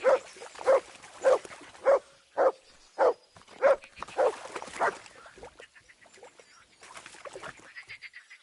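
A dog in the medieval role-playing game Kingdom Come: Deliverance II barks eight times in an even, fairly quick rhythm, clear and close, then quiets to faint rustling and brief whimpers.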